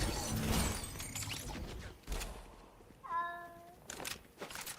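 Cat meowing in the video game Fortnite, a single clear, brief meow partway through, set among scattered game clatter and rustling noise.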